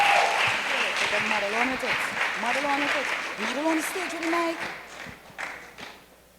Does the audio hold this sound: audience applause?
yes